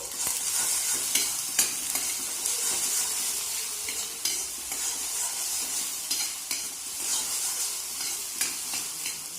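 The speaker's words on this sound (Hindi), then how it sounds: "इसको सुनहरा फ्राई करेंगे।" Oil frying and sizzling steadily while ingredients for a green egg curry cook until golden, with occasional stirring scrapes and light clinks of a utensil against the pan.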